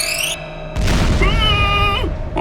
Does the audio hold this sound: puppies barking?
no